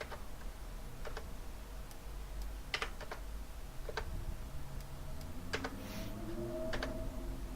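Soft, scattered clicks of computer keyboard number-pad keys being pressed, a few isolated taps at irregular intervals over a low background hum, fairly quiet and close.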